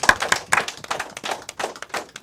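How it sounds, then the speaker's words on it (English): A small crowd claps in a round of applause. The claps are scattered and distinct rather than a dense roar, with sharp individual hand slaps coming close together over a couple of seconds. "So give yourselves a round of applause"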